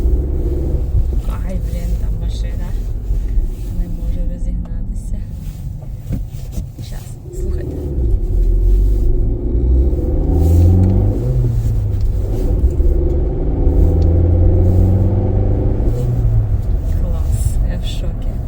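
A Škoda car engine rumbles close by, its deep drone rising and falling as it revs, with a person talking over the steady vibration.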